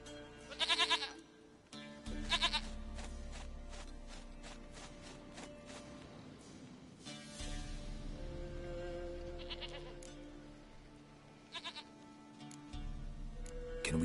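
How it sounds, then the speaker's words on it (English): A goat in the Witcher 3 video game bleats in several loud, separate cries, each followed by a quieter stretch with faint footsteps and ambient game sound. "Goat of mine, dearest, sweetest goat."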